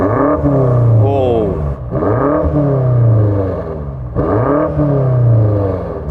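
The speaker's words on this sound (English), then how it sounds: "Now let's hear the BMW rev." A stationary BMW M5 Competition revs three times in a row, each rev rising then falling back in a loud, close engine roar. A brief exclamation is heard partway through.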